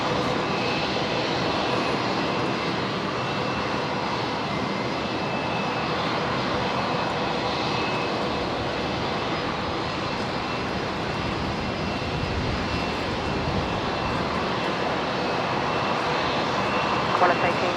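A Qantas airliner taking off from runway 19 right at Brisbane International Airport makes a sustained engine roar that stays strong and steady throughout, with voices faintly under the noise.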